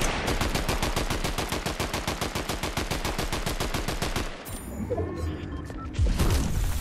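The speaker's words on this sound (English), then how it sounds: "shoot out this metal wall to our southeast so nobody can sneak on us" Rapid steady bursts of video game automatic gunfire shooting out a metal wall, loud and close, then breaking off into clattering debris and a final blast.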